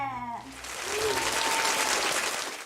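A round of applause cheered for someone during a live music-making stream, breaking in after a brief tonal sound fades and holding as a steady, fairly soft wash of clapping to the end.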